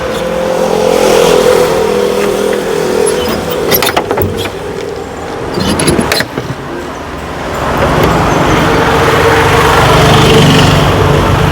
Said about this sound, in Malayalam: നമ്മൾ സംസാരിച്ചുകൊണ്ടിരുന്നപ്പോൾ തന്നെ ഒരു ജീപ്പ് വന്നിട്ടുണ്ട് കേട്ടോ